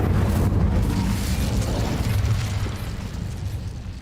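A burst of fire from the Incendio spell in Hogwarts Legacy, a loud rumbling boom that fills the opening and slowly fades over a few seconds with no talking.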